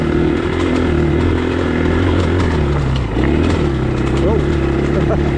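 A motorcycle engine holds a loud, steady drone as the throttle is worked, its pitch wavering slightly with a brief dip midway, close and continuous.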